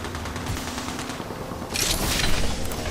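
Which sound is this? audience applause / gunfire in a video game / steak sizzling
gunfire in a video game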